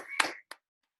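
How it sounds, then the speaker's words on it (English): A short round of hand clapping from people who have just finished a home warm-up workout. It comes as a dense burst of claps followed by one lone clap, then silence. "Clap for yourself for a lovely"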